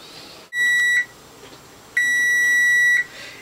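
An oven timer beeps as it is set for 20 minutes while baking an olive loaf: two long, steady electronic tones, the first about half a second and the second about a second, separated by a short quiet gap.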